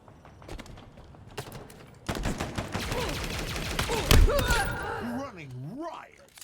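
Gunfire in the video game Halo Infinite, a rapid stream of shots over several seconds with heavier blasts mid-stream, mixed with game effects and a voice talking.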